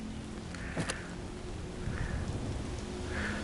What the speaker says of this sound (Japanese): 雨が降ってる。